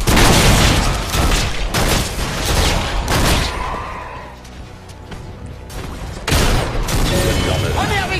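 Explosions in a Heroes of the Storm alpha cooperative match against AI opponents, loud bursting booms clustered at the start, easing into quieter action mid-way, then returning heavily near the end.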